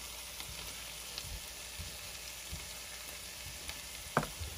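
Chicken, peppers and green onion cooking in a pan for jambalaya, giving a steady, soft frying hiss. Faint low knocks and one brief sharp clack occur near the end.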